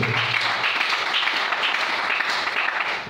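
A church congregation breaks into sustained applause, a dense, even wash of many clapping hands that stays loud and steady throughout with no break.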